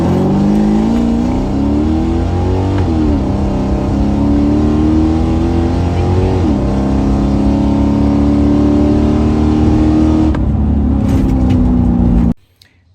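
A naturally aspirated, cammed automatic Mustang accelerates hard on a drag run, its loud engine roar climbing steadily through gear shifts before cutting off abruptly near the end.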